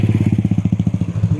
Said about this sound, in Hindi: ये जो बाइक जा रही है